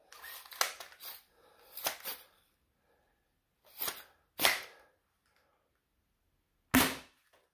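An XYL Tactical Edition Unicorn toy blaster fires foam darts over a chronograph, five sharp, separate pops with short rattling tails, spaced irregularly and loud against near silence.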